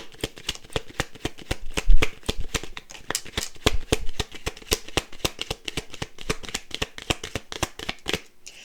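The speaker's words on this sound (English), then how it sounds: "Let's pull some cards real fast, real quick" Tarot cards are shuffled and pulled by hand, making rapid, rhythmic close-up flicks and slaps that repeat steadily for several seconds.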